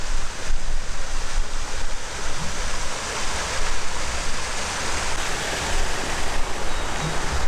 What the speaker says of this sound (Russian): Бассейн с водопадом.